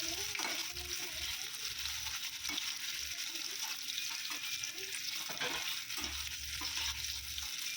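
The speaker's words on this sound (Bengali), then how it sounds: "হালকা করে ফ্রাই করে নেব" Paneer pieces coated with chili powder and turmeric fry gently in oil, giving a steady, moderately quiet sizzle with faint stirring scrapes throughout and no talking.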